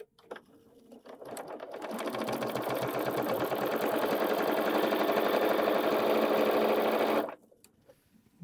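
A sewing machine stitches a quilt row onto its sashing in one steady, fast run of several seconds, with a soft start and a clean stop near the end.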